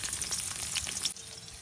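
Chopped onion and garlic fry in a wok on a village stove for a sour mango fish curry, a close crackling sizzle that drops slightly quieter near the end, with no talking.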